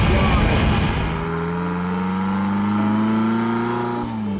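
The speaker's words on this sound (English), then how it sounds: "the engine is just such a beast, and it roars" A loud, close engine of a 2021 SSC Tuatara hypercar roars and revs, its pitch sliding as the car accelerates, then easing off near the end.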